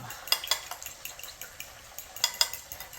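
A spoon stirring hot butter sauce for fried wings, quick scraping and clinking strokes against the bowl in an uneven rhythm, close and fairly soft, with light sizzling beneath.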